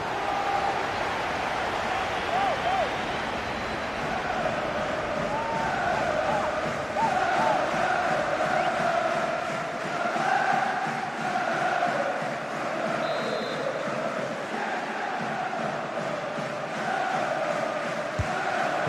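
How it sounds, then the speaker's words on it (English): A stadium crowd murmurs and swells with encouragement during a Cardiff City versus Bristol City Championship match in EA Sports FC 24, a steady distant roar running under commentary. "The crowd encouraging him to take it on."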